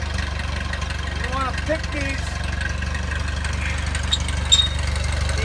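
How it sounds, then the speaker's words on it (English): A Ford Dearborn Ferguson tractor engine idles with a steady, low, even throb throughout, while someone talks over it. "You want to keep it just about idle."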